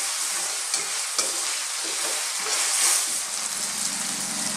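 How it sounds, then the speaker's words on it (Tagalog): Sautéed bottle gourd and chicken sizzle in a pan while a utensil stirs them in scraping, rustling strokes. The frying hiss runs steadily underneath, with no talk. "stir lang natin siya ng mga ilang minuto"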